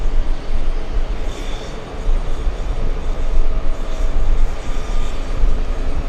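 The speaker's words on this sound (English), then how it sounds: "We have another American, this time a smaller one, a 737 flying in from Jamaica." An American Airlines Boeing 737 flying in from Jamaica passes overhead, a steady, loud, broadband jet roar that swells and fades slightly and holds throughout without speech.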